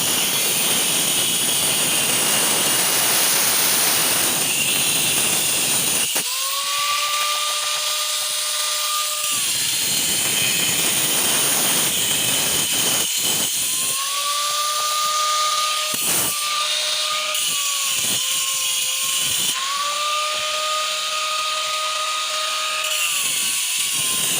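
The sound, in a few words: smoothing the face of a stone mortar (cobek)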